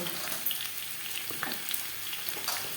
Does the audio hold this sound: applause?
no